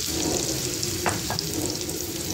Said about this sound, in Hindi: कुकिंग ऑयल गर्म हो गया, इसके अंदर मैं